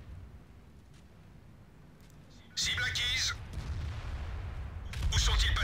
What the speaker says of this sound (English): artillery still likes to shoot at low health targets